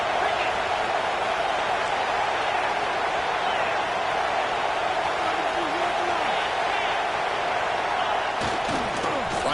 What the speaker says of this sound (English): Comes the noise. This crowd is trying to inspire this defense to make a big red zone stop.